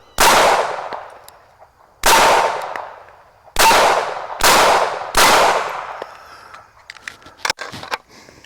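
Five sharp, loud shots from a Taurus Spectrum .380 pocket pistol at a range, each ringing out and decaying, spaced about one to two seconds apart, followed by scattered clinks and small clatter.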